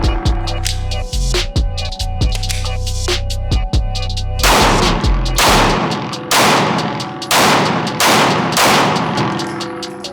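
Shots ring out loud and close in steady succession at a shooting session, many magazines emptied one after another, with a droning hum underneath and a few heavier, more spaced reports later on.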